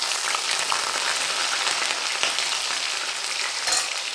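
Cut green chillies dropped into hot oil with popped mustard seeds for a tomato thokku, giving a loud, continuous close sizzle with fine spitting crackle throughout.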